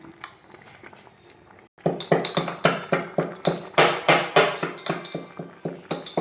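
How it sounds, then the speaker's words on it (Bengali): Small cardamom pods being ground to powder for a carrot halwa, heard as a run of sharp, ringing pounding strikes in a steady rhythm after a short quiet start, loud and close. "আর ওদিকে গুঁড়ো হচ্ছে ছোট এলাচ একটু লাগবে।"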